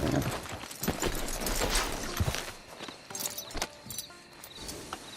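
Horse hooves clip-clopping in Red Dead Redemption 2, a steady rhythm of close hoof strikes over ambient outdoor sound, with faint voices now and then.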